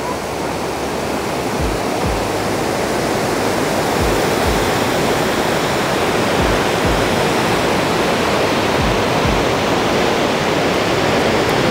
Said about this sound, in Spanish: Bienvenidos a la Cascada de Berard.